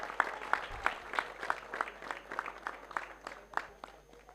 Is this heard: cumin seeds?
no